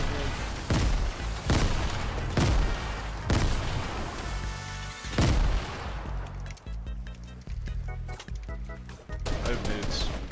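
Grenade explosions and gunfire in a Fortnite match, several heavy booming blasts at the start followed by rapid bursts of shots and clatter, with voices talking over the action.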